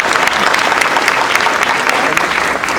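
A crowd gathered outdoors for an unveiling ceremony of a Berlin Wall section applauds loudly and steadily throughout, a thick wash of close and distant clapping with no speech over it.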